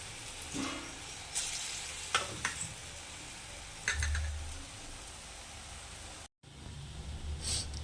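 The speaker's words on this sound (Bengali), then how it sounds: "ডালের বড়াগুলো হয়ে গেছে ভাজা" Lentil fritters fry in hot oil in a home kitchen with a continuous close sizzle, broken by a few soft clatters of utensils and a momentary dropout near the end.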